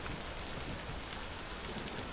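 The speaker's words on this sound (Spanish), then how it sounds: "Me pilla aquí una lluvia, una tormenta del kilo." Heavy rainstorm in the Beasts of Bermuda dinosaur survival game, a dense, steady roar of downpour filling the whole clip without pause or voices.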